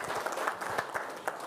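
Audience applause during the 2026 Monetary Policy Statement event in Zimbabwe, a steady, moderately distant patter of many hands clapping without pause for the whole moment.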